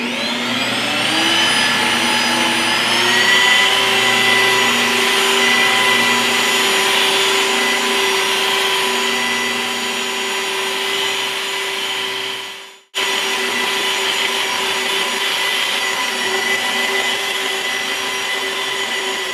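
Car paint polisher running steadily on a Subaru BRZ during paint damage repair, its motor whine ramping up early then holding at about 1800 RPM, loud and continuous with a brief dropout near the end, no talking.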